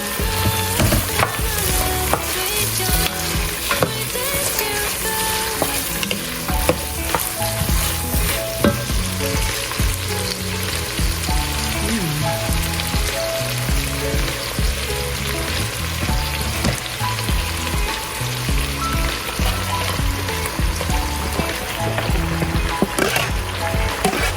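Spices sizzle and fry steadily in a pot while making chicken gnocchi soup, a continuous close, loud crackling hiss with stirring scrapes throughout and no talking.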